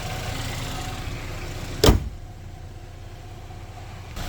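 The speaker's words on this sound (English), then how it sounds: "so we can close the hood." Hood of a Chevrolet Equinox slams shut once, a single sharp thud over the steady hum of the car nearby, with no talk.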